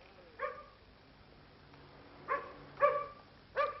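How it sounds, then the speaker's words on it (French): Several dogs bark in a small French village of about 1,900 people, short yelping bursts at moderate distance: one early bark, then three more spaced a second or so apart over faint background hum. "Ses chiens qui aboient et ses mulas qui passent"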